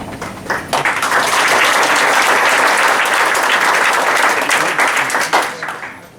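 Loud crowd applause at a public hearing in Greenburgh, building quickly, holding steady for several seconds, then tapering off near the end, with no talk.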